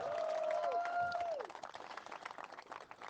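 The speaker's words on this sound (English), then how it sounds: "Let's give them a round of applause as well." Crowd applause at a political campaign rally in Brampton for candidates, heard as dense clapping under a sustained voice tone in the first second and a half, then a steadier wash of clapping and cheering from the gathered audience.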